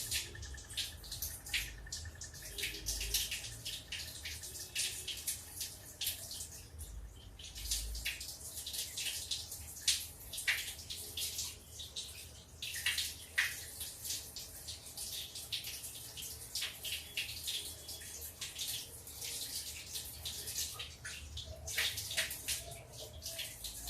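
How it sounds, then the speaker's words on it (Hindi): Kakun rice being washed in water for kheer, with continuous splashing, swishing and trickling, irregular bursts of sloshing at moderate, close range and no talking. "चावल को तब तक धो लेते हैं।"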